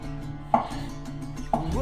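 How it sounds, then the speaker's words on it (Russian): A knife cuts a meaty tomato into thick half-rounds on a kitchen board, giving two crisp, close chopping strikes about a second apart. "Мясистый помидор разрезаю пополам,"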